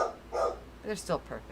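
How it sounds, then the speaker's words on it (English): A dog barks a few short times at close range during a call-in stream, the barks mixed in with a person speaking. "Sorry about my dog."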